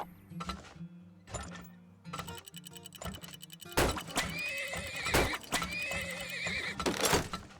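Several horse neighs and whinnies from the video game Turmoil, with hoof clip-clops and ticking game sounds over a steady backing tune, the calls growing louder and busier in the second half.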